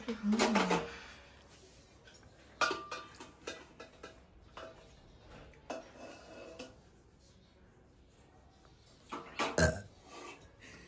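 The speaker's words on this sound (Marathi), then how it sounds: "प्रत्येक व्हिडिओ ढेकरा हायतच" A low, guttural burp near the start of cooking jackfruit curry, followed by clinks and clatters of dishes and utensils as a pressure cooker is opened, with another burst of clattering near the end.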